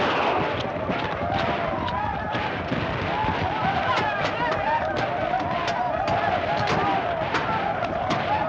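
Gunfire in an old western cracks out as a run of sharp, repeated reports, layered with other soundtrack noise and voices talking.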